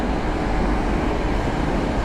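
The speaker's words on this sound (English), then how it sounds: "And now you can see the train turns." A long, new single-car Moscow metro train rolls through a tunnel and takes a curve, giving a loud, steady low rumble and roar with no break.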